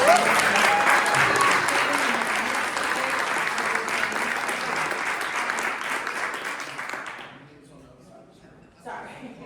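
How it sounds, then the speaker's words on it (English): An audience claps in sustained applause for presenters at a small talk event, a dense, even clatter of many hands that fades out near the end and is followed by a brief voice. "Let's give them another round of applause."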